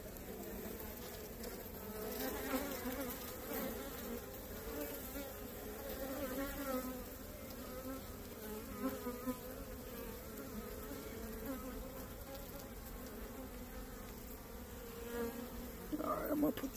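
Honey bees from a cutout hive full of brood and nectar hum in a steady, close, droning buzz that swells and fades slightly, with a faint voice now and then beneath it.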